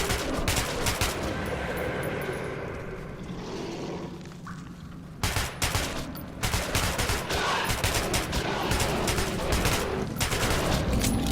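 Rapid bursts of gunfire from shooting enemies in Metro 2033 Redux, dense volleys of shots pounding steadily for most of the stretch, with a short lull in the middle before the firing resumes loud and close.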